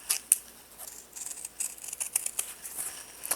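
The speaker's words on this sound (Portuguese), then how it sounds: "com a tesoura de picotar, com bastante cuidado, a gente vai picotar em volta aqui da parte do escalope" Pinking shears cut along a scalloped edge of fabric with a series of quick, close crisp snips in an irregular rhythm, each one short and sharp.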